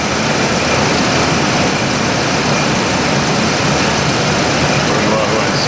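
A Chevy Colorado with a cam timing fault idles steadily, a dense, constant engine hum with a faint whine, loud and unbroken, with people speaking over it.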